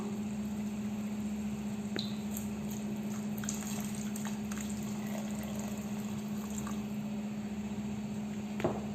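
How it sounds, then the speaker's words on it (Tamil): One cup of water added to a pot of Arabian-style chicken biryani, heard as a continuous low liquid pouring and gurgle under a steady hum, with a few small clinks and a louder knock near the end. "இப்போ நம்ம 1 கப் தண்ணி சேர்த்திக்க போகிறோம்."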